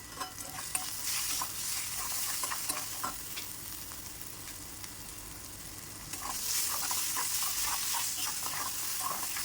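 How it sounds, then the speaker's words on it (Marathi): Onion-garlic masala roasts in oil in a pan with a steady, close sizzle and crackle, broken by stirring scrapes, growing a little louder toward the end. "कांदा लसूण मसाला थोडंसं तेल सुटेपर्यंत भाजतो आहे आपण"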